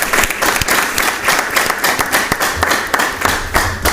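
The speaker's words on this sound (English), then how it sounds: "Clap for yourself, our audience." A studio audience at a television news show applauds, a dense burst of many hands clapping in uneven rhythm, loud and close, lasting the whole moment without speech.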